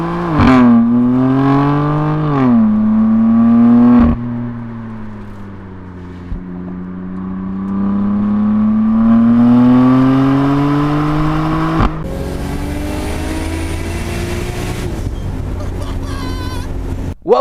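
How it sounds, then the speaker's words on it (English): A BMW F80 M4 Competition driving through Arizona canyons, its engine droning loud and close as revs rise and fall through gear changes, with heavy wind rush over the microphone. "we're driving the M4 competition in the canyons of Arizona"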